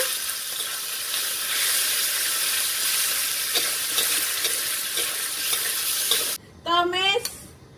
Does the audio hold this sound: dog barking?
no